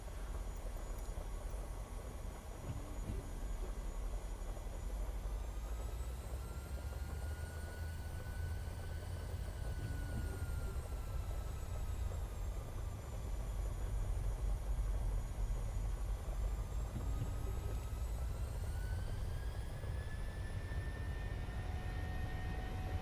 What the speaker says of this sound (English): Cleared for takeoff runway 1 left United 736.